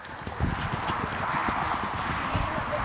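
A horse trots at a horse show, its hooves clip-clopping in a quick, steady rhythm, close and fairly loud, over faint background chatter.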